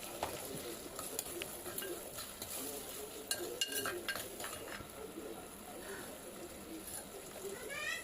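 Onions frying with salt in a clay pot for a prawn curry give a soft, continuous sizzle. Quiet stirring scrapes and a few light clinks sit on top, heard close-up with no talking.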